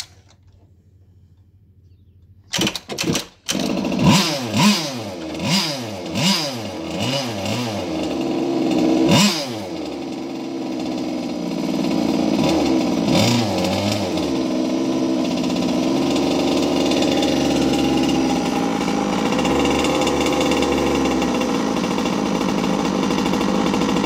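Petrol engine, a small two-stroke thermal unit nicknamed "la tueuse" (FG Evo 2020), starting with sharp pops then revving in repeated rising and falling bursts before settling into a loud, steady high idle, close by with no talk.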